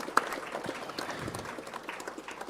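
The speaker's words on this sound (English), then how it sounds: "can we just give a round of applause for that one" Faint applause from a gathered crowd at a memorial service for Kaizer Chiefs footballer Luke Fleurs, a soft, steady patter of many hands lasting a couple of seconds.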